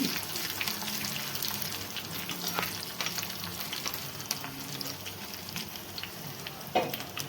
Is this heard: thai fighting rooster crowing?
no